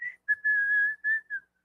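A person whistles a steady, clear tone in a Parkinson's strength and cardio exercise class, several short held notes with brief gaps, close and fairly loud with no talking.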